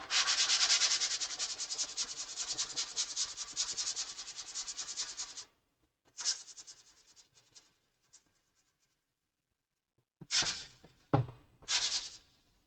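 A finished wood surface is sanded by hand in a steady scratchy rubbing for about five seconds. A few short, quieter strokes follow after pauses. Each sound is close and dry.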